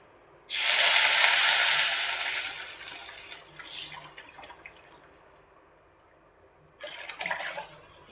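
Rasam poured into a pan after asafoetida has gone in, heard as a loud close rush of liquid for about two seconds, then a brief splash and a later short second pour, with no talk.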